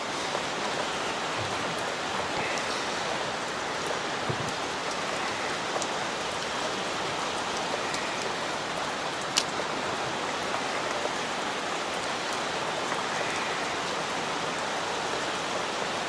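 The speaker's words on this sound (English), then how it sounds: "It's a rainy day." Steady rain falls at an outdoor fishing spot on a wet day, a dense, even hiss of drops on surfaces that carries on unbroken throughout with no voices.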